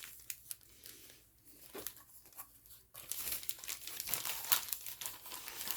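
A Ziploc plastic bag is handled close up while travel toiletries are packed: soft, irregular crinkling and rustling, quiet at first, then louder and denser, with no talking.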